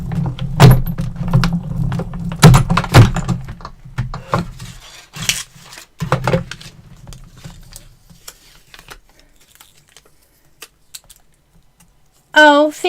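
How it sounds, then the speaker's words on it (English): A die cut machine pressing paper for a layered-hearts Valentine's card gives a low mechanical grinding rumble with clicks for several seconds, then fades to faint handling noises and a brief tonal sound at the end. "we're going to just run this through our die cut machine"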